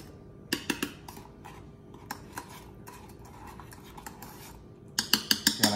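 A spoon stirs and scrapes coffee and sugar in a cup to whip up Cuban espumita, giving quick metallic clinks and rasping strokes in uneven bursts, close and fairly quiet with no talking.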